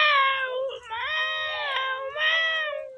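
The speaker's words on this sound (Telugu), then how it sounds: "మా పిల్లి కూడా రెడీగా ఉంది" A pet cat meows loudly and close by in drawn-out, wavering cries, three long calls in a row with short breaks between.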